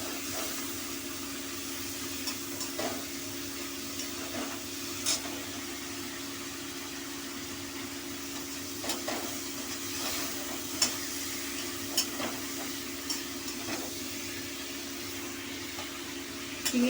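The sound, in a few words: shrimp frying lightly in oil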